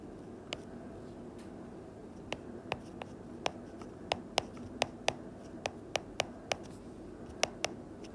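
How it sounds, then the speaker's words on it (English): A value being written by hand on paper, a run of faint, sharp ticks and taps from the pen in an irregular rhythm over a quiet background. "So I will just write the value."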